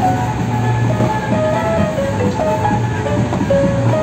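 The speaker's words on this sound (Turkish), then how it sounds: "Bu trenin bu kadar yavaş gideceğini hiç düşünmemiştik." A slow kiddie train ride at an amusement park gives a steady, close rumble with faint tonal whines and squeals layered over continuous mechanical noise.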